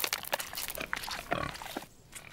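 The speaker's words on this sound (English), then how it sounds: "One of my pigs is going to have piglets today." Pig oinking and grunting on a farm in a cartoon setting, a few short snorty grunts in quick succession, close and moderately loud, with no one talking.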